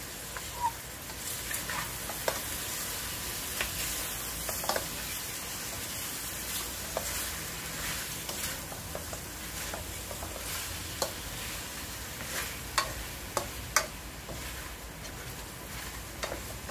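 Chicken adobo being stirred in a pan, a low continuous sizzle with scattered scraping and tapping of a spoon at irregular intervals, fairly quiet and with no one talking.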